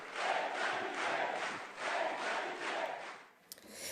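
French deputies in the parliament chamber after a vote, a continuous crowd roar of cheering, shouting and clapping that swells in waves and then eases off near the end.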